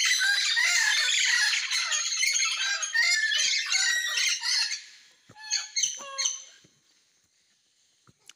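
Parrots calling in Tikal National Park, Guatemala: a dense run of harsh, overlapping squawks for about five seconds, then a few scattered calls that trail off into near silence.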